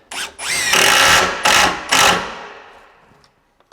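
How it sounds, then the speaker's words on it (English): Power drill driving screws into hard kitchen cabinets during installation, several loud close whirring bursts in quick succession, each rising and stopping abruptly, then fading to quiet. "When you're putting screws into hard cabinets, don't be afraid."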